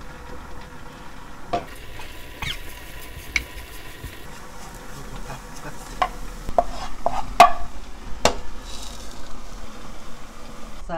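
Meat stir-frying in chili oil in a pot for spicy Korean yukgaejang made with beef shank, a low steady sizzle with scattered sharp clicks and scrapes of a utensil against the pan, brief voices in the background.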